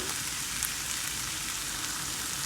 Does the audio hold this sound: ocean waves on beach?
no